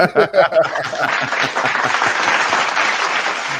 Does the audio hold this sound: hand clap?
yes